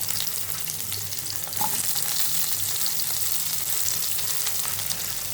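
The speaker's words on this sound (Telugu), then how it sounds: "ఉల్లిపాయలు కొంచెం ఫ్రై చేయాలంటే." Onions frying in a pan with curry leaves and garlic for an okra curry, a loud, steady, continuous sizzle with occasional faint stirring sounds and no talking.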